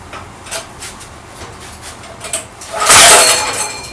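A petrol generator's pull-start kicks back and the engine backfires into the carburetor, giving a sudden loud, rough burst near the end after faint, uneven rattling.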